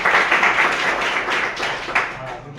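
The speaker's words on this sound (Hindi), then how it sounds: "जोरदार तालियां" A room full of people claps, loud at first and then gradually thinning out over a couple of seconds.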